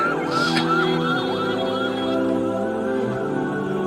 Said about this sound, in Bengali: ডানে কি অ্যাম্বুলেন্স যাচ্ছে